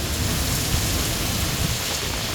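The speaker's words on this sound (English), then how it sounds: "you can just see that wave of rain hitting right here on Colorado Avenue in front of the Otero County Courthouse" Heavy thunderstorm rain pours steadily onto Colorado Avenue in front of the Otero County Courthouse in downtown La Junta, a dense, loud hiss of drops hitting pavement with no pauses.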